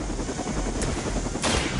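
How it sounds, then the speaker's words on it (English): Helicopter taking off in the Midnight Suns video game, a dense steady rotor and engine roar filling the whole clip at close range, with a brief surge of brighter noise partway through. "That helicopter's about to take off"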